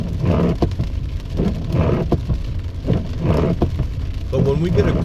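Steady rain falls on Las Vegas roads beside a wash, a continuous wash of patter and splashing with someone talking over it.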